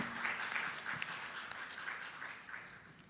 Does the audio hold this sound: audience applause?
yes